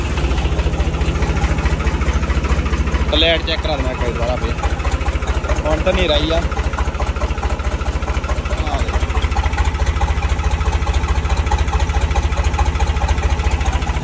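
A New Holland tractor engine with an alternator fitted underneath idles at a steady, even rumble throughout, with people talking over it.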